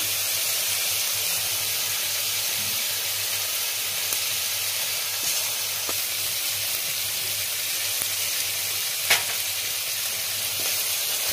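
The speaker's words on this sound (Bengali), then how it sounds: "মশলাটা ভাজবো। এরপরে পরিমাণ মতো আমি হলুদ দেবো তরকারিতে রং আনার জন্য।" Ground cumin and coriander paste and turmeric frying in a pan for a Bengali yogurt fish curry: a steady, close hiss and sizzle that runs on evenly throughout, with a few faint clicks and no talking.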